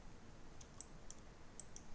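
Computer mouse and keyboard clicks, about five sharp, faint, close clicks spaced irregularly over a quiet background hiss, with no voices.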